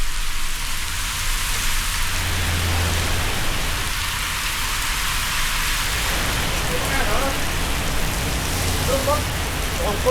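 Steady, loud rain pours down continuously in Kirirom, a dense even hiss with no breaks, heard while riding a motorbike through the downpour.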